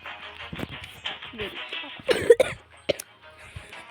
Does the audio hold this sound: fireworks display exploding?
no